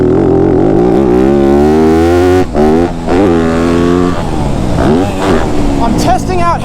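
Yamaha YZ250F dirt bike engine revving hard and shifting up through gears without the clutch, with loud rising and falling pitch sweeps at each gear change, close up, with speech over it.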